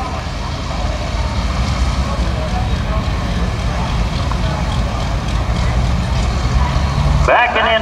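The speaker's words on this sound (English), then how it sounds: "Backing into the sled with a 1066." A heavy 1066 tractor engine rumbles steadily at idle up close while backing into the sled at a farm stock tractor pull, with a short burst of higher mechanical whine near the end.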